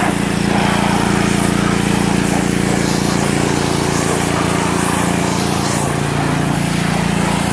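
Engine-driven pressure washer spraying car wheels to strip brake dust, a loud, steady motor drone with a constant hissing spray running unbroken throughout, no voices.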